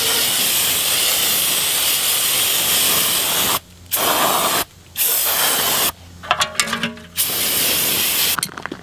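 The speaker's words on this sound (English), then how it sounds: "for the pan itself, we can just hit it with some brake cleaner and wash it off pretty much" Brake cleaner sprayed onto a transmission pan in long, loud hissing bursts broken by short pauses, with a few fainter sputtering spurts near the end.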